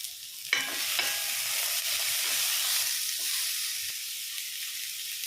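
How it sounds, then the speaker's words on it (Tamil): Onions frying in a little oil in a cast iron pan for a Tamil poricha kulambu, a steady sizzle with stirring scrapes, close and fairly even throughout, no voices. "ஸோ 2 டேபிள் ஸ்பூன்லேயே இந்த ஆனியன் வதங்கிடுங்க"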